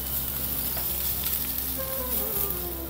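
Cumin, peanuts and a green chili-coriander paste fry with a soft, even sizzle in a pan, with a brief stir and a faint hum under the hiss.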